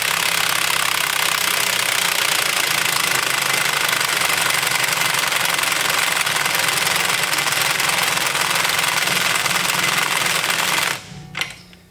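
A battery impact wrench hammering wheel studs on a Mazda Miata during an extended stud install, loud and close with a rapid, continuous rattling whir that stops sharply near the end.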